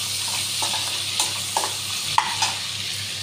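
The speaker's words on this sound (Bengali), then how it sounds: "চিংড়ি মাছটা ভাজা ভাজা হয়ে গেলে তুলে নেব।" Prawns frying in a pan, a close continuous sizzle of hot oil broken by a few short scraping stirs and one sharp clink near the end.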